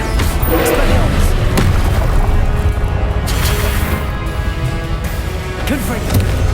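Spell effects from Hogwarts Legacy, a disarming Expelliarmus cast amid combat: a continuous loud wash of magical booms, crashes and thuds with sharp transient hits, dense and close throughout.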